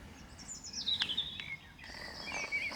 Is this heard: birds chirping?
yes